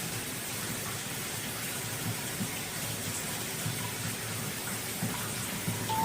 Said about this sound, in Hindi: ये पानी की आवाज